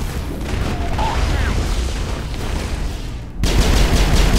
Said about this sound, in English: I have a super awesome machine gun pistol.